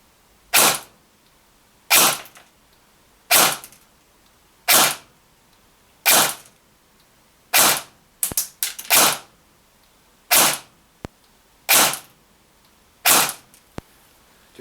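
A KWA QRF MOD.3 airsoft rifle fires single shots, roughly ten sharp pops at fairly even intervals of about one and a half seconds, with a quick burst of several faster shots partway through, close and loud.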